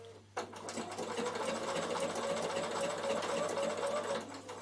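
A Bernina sewing machine triple stitching thick thread on wool appliqué for a draught stopper starts abruptly and runs in a steady, fast mechanical whir with a rapid needle patter, close and continuous.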